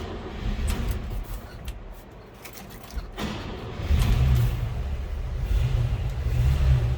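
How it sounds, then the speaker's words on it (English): A 1961 Chevrolet Apache 10 Stepside shortbox pickup truck engine runs at a steady low idle. A deep rumble builds partway through and holds, heard alone with no talking. "Let's go ahead and fire this up so you can hear it run."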